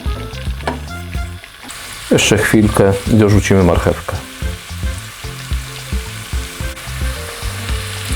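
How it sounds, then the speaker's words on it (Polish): Chopped onion frying in a pan with salt as the base for a quick broad bean soup, a steady close sizzle with stirring scrapes running throughout while someone talks over it. "Minęła gdzieś tak minutka, jak smażyliśmy tą cebulkę."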